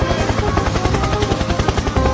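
A pink toy helicopter whirs with a rapid, steady chopping pulse of rotor sound, loud and close, continuing without pause.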